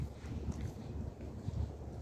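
Strong wind buffets a microphone outdoors at a fiesta, giving a low, rough, continuous rumble with gusty surges across the short stretch.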